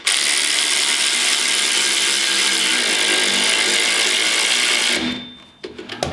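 A Snap-on electric ratchet wrench tightening a bolt on a spare tire carrier for a Can-Am Maverick X3 whirs continuously and loudly for about five seconds, then stops with a few short clicks and taps.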